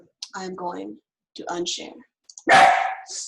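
A dog, a hungry terrier, lets out one loud, sharp bark near the end, following a few short phrases of talk.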